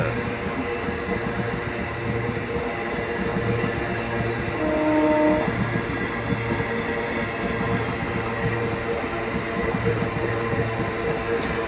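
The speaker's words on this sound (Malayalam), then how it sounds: "ഇവിടെ നിന്ന് പോയി ഒരു ട്രെയിൻ ഇവിടെ നിന്ന് വന്നു ഒരെണ്ണം" A train rumbles past at a railway station continuously, with heavy clattering of wheels on track and a low droning hum throughout, loud and close.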